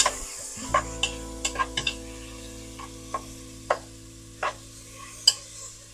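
Finely chopped sirloin browning in a pan gives a steady low sizzle under scattered sharp scrapes and taps of a utensil stirring the meat, close and fairly quiet.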